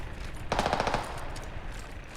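A short, quiet burst of muffled rapid gunfire rattles off in the distance, a suppressed enemy automatic weapon in a video game, over low background noise.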